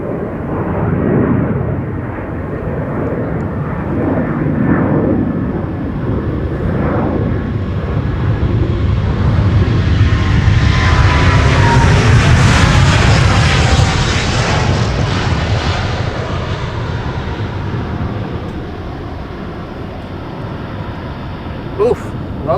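Jet airliner taking off from Amsterdam Schiphol's Polderbaan runway, engines roaring past: a broad rumbling roar that swells to a loud peak mid-pass with rising whine and phasing, then fades as it recedes, with a voice talking underneath.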